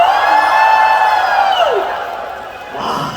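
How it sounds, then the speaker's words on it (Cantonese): An audience cheers at a fan meet-up after a countdown, a loud sustained wave of voices that swells early, then tapers off before a brief second lift at the end. "以3、2、1個歡呼鼓勵佢哋"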